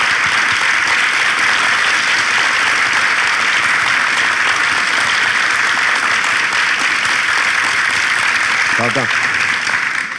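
A studio audience at a Turkish relationship-test show applauds loudly and continuously, a dense wash of clapping under a host speaking over it.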